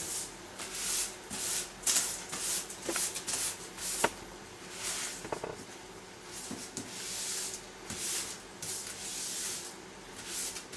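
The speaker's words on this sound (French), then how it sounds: "bien huiler le papier sulfurisé sur les côtés, sur le milieu" Parchment paper being oiled along its sides and middle for a lemon marshmallow mold, soft irregular rubs and crinkles in short strokes, quiet and close, with no talking.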